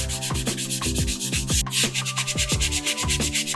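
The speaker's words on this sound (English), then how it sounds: "I have some 220 sanding sponge, and I'm just going to go over these seams very lightly" Close, rhythmic scrubbing of a 220-grit sanding sponge rubbed lightly back and forth over the seams of a Mega Man X helmet in quick, steady strokes, with no voices.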